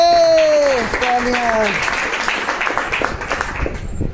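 An audience at a motivational seminar for commando training in Varanasi breaks into loud, sustained clapping that fills the room, and a voice is heard briefly at the start.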